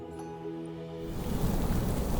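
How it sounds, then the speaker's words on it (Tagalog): Heavy rain pours down in a stormy night setting, the broadband roar swelling abruptly after about a second and then holding steady and loud with gusting wind. "Bumuhos na ang malakas na ulan at paunti-unti ay lumalakas lalo ang hangin."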